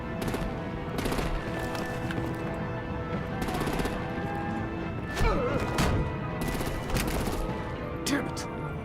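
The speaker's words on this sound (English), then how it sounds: "Break out the artillery and disable their vehicles!" Artillery gunfire in the video game Batman: The Enemy Within, repeated sharp blasts and bursts of shots over a low ambient bed, with a clatter of impacts midway, moderately loud.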